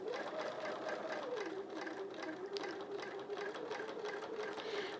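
A domestic sewing machine quilts feather shapes with a continuous, steady whirring hum, close and fairly quiet, its pitch dipping slightly once as the stitching slows before holding even.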